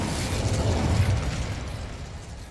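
Casting the Incendio fire spell in the video game Hogwarts Legacy sets off a bursting, whooshing blast of flame. It swells loudly, then fades into a rumbling tail, with no speech.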